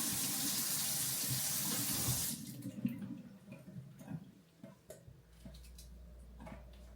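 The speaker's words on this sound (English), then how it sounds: "Okay, you cut the water on now." Water runs from a kitchen tap in a steady hiss for about two seconds, then shuts off, leaving small drips, clinks and handling noises in a quiet home kitchen.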